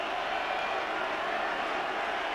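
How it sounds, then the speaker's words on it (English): A stadium crowd at a 2003 Rugby World Cup match between Uruguay and South Africa gives a steady, diffuse roar of cheering that stays even and somewhat distant throughout. "Again, the crowd getting behind them before they release it to Amarillo."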